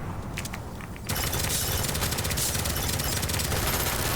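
Enemy gunfire in a video game comes as dense, continuous rapid-fire bursts, loud and unbroken after a brief quieter opening with scattered shots.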